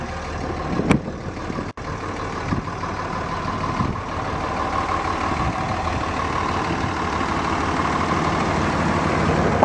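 A 2005 Dodge Ram 3500 Big Horn with a 5.9L Cummins diesel and 5,200 miles idles steadily, a constant close rumble with a clatter on top, broken only by a brief click near the start.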